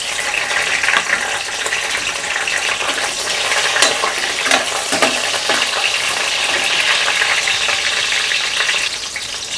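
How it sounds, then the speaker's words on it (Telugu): Dry red chillies broken in half sizzle in a pan together with green chillies, a loud, continuous close-up crackle with occasional stirring scrapes and no talking. "8 ఎండు మిరపకాయల్ని 2 ముక్కల కింద కట్ చేసుకొని వేసుకొని ఫ్రై చేసుకోవాలి"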